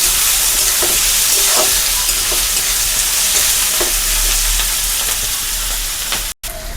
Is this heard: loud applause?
no